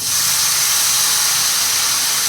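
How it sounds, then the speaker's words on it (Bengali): Water splashes into a hot pan of dry ground spice powder, setting off a loud, continuous steamy hiss that holds at an even level for about two seconds. "একটু জল দিয়ে দেবো, তা না হলে পুড়ে যাবে মশলাগুলো"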